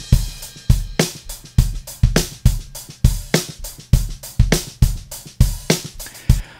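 An untreated, unprocessed drum kit recorded raw, with sharp snare and kick hits in a steady groove, cymbals washing between them, loud and close without any talking.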